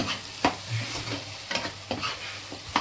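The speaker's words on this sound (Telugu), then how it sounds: "ఈ 3 కొద్దిగా కారం పచ్చివాసన పోయేంత వరకు కూడా వేయించుకుందామండి." Chilli powder and garam masala frying in a pan while being stirred, with a soft continuous sizzle punctuated by repeated scraping strokes of the spoon against the pan, close and alone.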